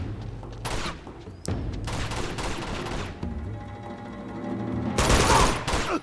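Machine gun fire in Uncharted 2, heavy bursts of automatic gunfire in several loud clusters, with dense rattling volleys near the start, a sustained stretch in the middle and a final loud burst.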